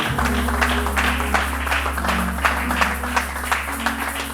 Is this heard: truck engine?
no